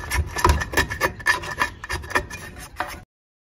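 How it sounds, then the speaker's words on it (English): A hand scraper rasps repeatedly across old adhesive on an edger sanding machine, with close, loud, rhythmic strokes for about three seconds before stopping abruptly. "Just scrape any big bits of it, of old adhesive you've got on there."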